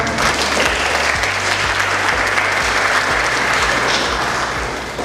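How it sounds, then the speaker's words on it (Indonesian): A room full of guests, students visiting a city council chamber, applauds in a continuous, even burst of clapping, loud and close, with a low hum underneath and no talking. "Bisa berikan tepuk tangan."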